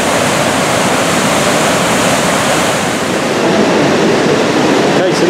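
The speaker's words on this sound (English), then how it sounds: "So we're at the top of the waterfall." A waterfall on the Akerselva river in Oslo, heard from the top of the falls: a loud, constant roar of rushing water filling the whole clip, close and steady, with no talking.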